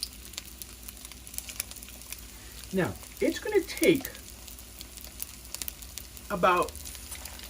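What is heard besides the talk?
shrimp toast frying in hot oil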